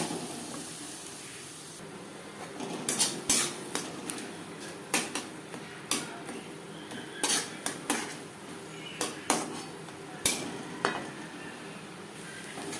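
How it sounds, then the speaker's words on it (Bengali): Ghatkol leaf paste is stirred in a pan over a medium-high flame, with a spatula clanking and scraping the pan in sharp repeated strikes over a faint steady sizzle, close up and without speech. "হাই টু মিডিয়াম ফ্লেমে নাড়াচাড়া করব"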